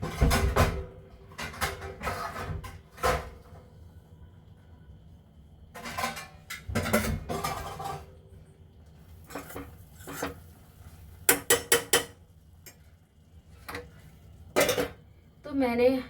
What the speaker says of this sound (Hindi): अब मैं इसको ढक के रख देती हूँ।